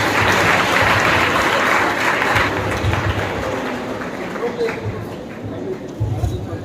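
An audience at a school education officers' motivational talk applauds to welcome a guest: loud, dense clapping at first that gradually thins and fades, with voices around it.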